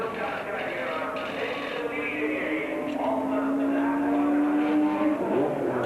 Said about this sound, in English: The Stuck Bell Porsche is in too